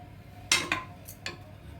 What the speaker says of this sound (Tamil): ஒரு தட்டை போட்டு மூடி வச்சுருவோம்